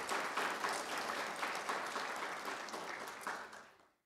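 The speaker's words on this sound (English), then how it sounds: "Give yourselves a round of applause because you deserve to feel proud at this very moment." Audience applause at a high school graduation stoling ceremony, a broad steady wash of clapping from a large crowd that holds for several seconds, then thins and fades out at the end.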